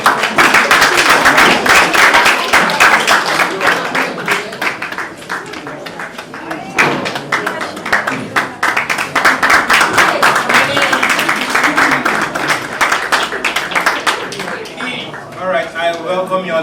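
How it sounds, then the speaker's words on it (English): A crowd claps as a team comes on stage at the HackWeakEnd 2019 technology event, producing dense, sustained applause that dips briefly and resumes, with voices audible over it. "Please, a round of applause."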